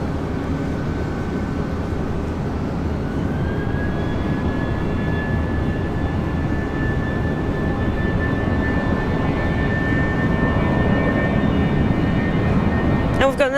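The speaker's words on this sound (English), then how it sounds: "And we've got another Jetstar flight." A Jetstar passenger jet flies at Brisbane Airport, its engines giving a continuous broad roar with a faint rising whine throughout.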